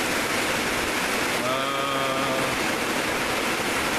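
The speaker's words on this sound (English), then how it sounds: "The rain's pouring." Heavy rain pours down steadily, a dense constant hiss throughout, with a faint voice briefly murmuring in the middle.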